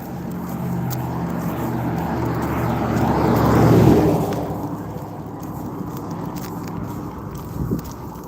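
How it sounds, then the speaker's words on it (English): A loud car on a residential street swells as it approaches, roars past at its nearest and fades away, a broad rumbling pass heard outdoors with no talk. "Here comes a loud car."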